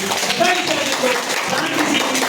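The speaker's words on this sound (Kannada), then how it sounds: "ದಯವಿಟ್ಟು ಚಪ್ಪಾಳೆ ಹಾಕಿ" An audience at a Lions Club honoring ceremony in Belman claps for a Rajyotsava award winner, a short burst of applause mixed with voices.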